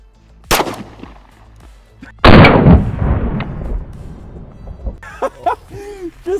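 Gunshots from a 5.7x28 pistol round fired into a target: a sharp crack near the start, then a louder, longer blast with a decaying tail, followed by brief voices reacting.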